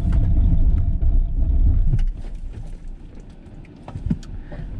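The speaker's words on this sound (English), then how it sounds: "So let's try an emergency stop." A Mercedes EQS electric car brakes hard in an emergency stop, a loud low road rumble for about two seconds that drops sharply to quieter tyre and cabin noise with a few thumps as the car settles.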